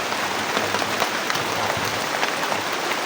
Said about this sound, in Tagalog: Grabe talaga ng ulan.